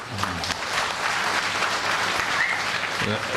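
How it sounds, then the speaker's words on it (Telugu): An audience at the closing ceremony of the Kurnool Utsav festival applauds loudly. Dense, continuous clapping from a large crowd fills the whole moment, with faint voices mixed underneath. "వాళ్ళందరికీ బిగ్గరగా చప్పట్లు కొట్టండి"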